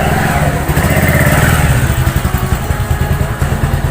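A Pulsar motorcycle rolls up close and loud, its engine note rising and then settling into a rapid, throbbing idle with an even thumping pulse, and no voices.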